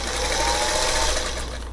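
A sewing machine stitches fabric in a continuous, steady, fast mechanical hum with a rapid needle rhythm, loud and close, with no talk.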